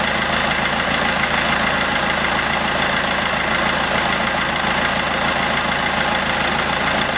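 A replacement 1.3 Multijet diesel engine in a 2008 Fiat Doblo Cargo idles steadily and close, a dense continuous rumble with faint clatter, with no voices over it.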